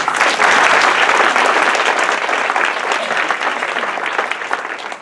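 Audience at a National Park Service diversity panel applauding as the panelists are welcomed, a dense, steady burst of clapping from a room full of people, loud and close, tapering slightly toward the end.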